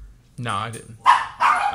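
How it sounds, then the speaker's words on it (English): A dog gives one close, loud bark, and a voice follows right after, speaking over a quiet background. "That's my dog."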